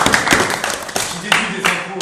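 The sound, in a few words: applause for a donor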